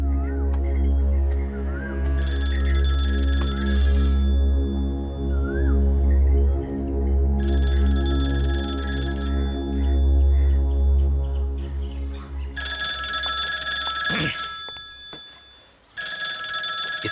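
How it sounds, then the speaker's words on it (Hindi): A telephone rings in an indoor scene, repeated electronic ring bursts over a loud, sustained low musical drone, with a short pause and a final ring near the end. "इस वक्त कौन फोन कर रहा है?"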